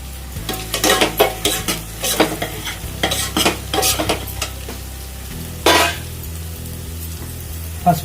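Dried red chillies and lentils frying in a pan with turmeric, a close sizzle under repeated scraping and clinking strokes of a spoon stirring against the pan, loud with no talk.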